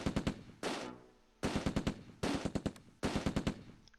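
Machine gun fire in the video game Close Combat II: loud, close bursts of rapid shots, four separate volleys with brief pauses between them, and no talking.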